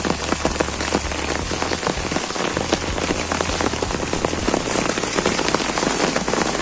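A hailstorm with heavy rain hammers down nearby, a dense, continuous patter of stones and drops striking surfaces at steady loudness, with no voices.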